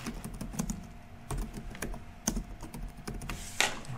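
Quiet clicking of a computer keyboard as a landing page name is typed, with irregular keystrokes close by and no talking.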